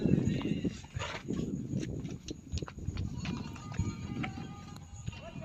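Horse walking on a mountain trail at Sonmarg, Kashmir, its hooves clip-clopping in an irregular rhythm close by, with background voices and outdoor noise.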